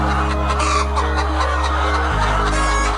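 Chickens cluck loudly and continuously at close range inside a coop in Yogyakarta, with no voices over the birds.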